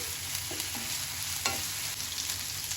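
Onion, tomato, ginger and garlic sauté in a pan with a constant soft sizzle and a few light scraping stirs. It stays fairly quiet, with no voices.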